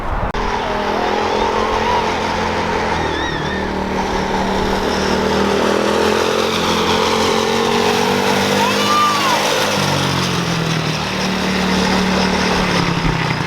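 A kids' four wheeler engine runs steadily close by after fitting new parts, a loud continuous drone with slight shifts in pitch and a brief rise near the middle, with outdoor background noise.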